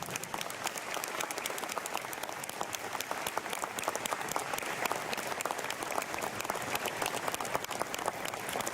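A crowd at an anniversary ceremony for the town of Villa Ángela applauds the presentation of the town flag with sustained, energetic clapping that stays even and strong from start to finish.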